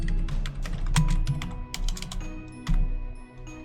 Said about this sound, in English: I'll go ahead and type something in here.